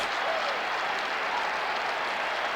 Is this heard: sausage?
no